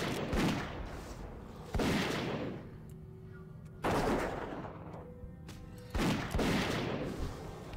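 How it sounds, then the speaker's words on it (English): Hunter's gun firing in World of Warcraft Season of Discovery, played as a dwarf hunter: four loud, booming shots spaced about two seconds apart, each trailing off into a ringing decay over quiet background game sounds. "Listening to this gun is pretty annoying"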